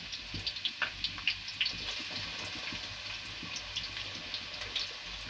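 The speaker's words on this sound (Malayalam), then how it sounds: "ഈ ചൂടായ എണ്ണയിലേക്ക് ഞാൻ ഉള്ളി ഇട്ട് കൊടുക്കുകയാണ് കേട്ടോ." Finely chopped onions sizzle in hot coconut oil for a chicken dish, a close, steady crackling hiss with scattered sharp pops early on and no talking.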